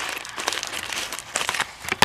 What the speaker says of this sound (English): And let's cut this open.